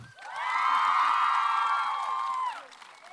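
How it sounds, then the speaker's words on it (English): Festival crowd at a Canadian television festival greeting cast members on stage, a sustained swell of cheering and whooping voices for about two and a half seconds before fading. "Give them a round of applause"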